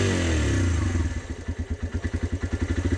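Motorcycle engine with upgraded handlebars, extra fuel supply and a Koso gauge, loud and close. It roars at high revs, then drops to a lumpy, pulsing idle that throbs in regular beats.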